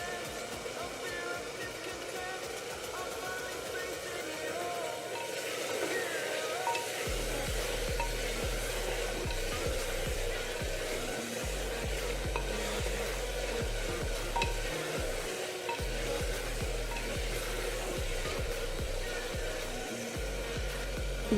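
Onions fry in a pan toward light brown, sizzling steadily while being stirred and scraped, with a low rumbling hum under much of it; close and continuous.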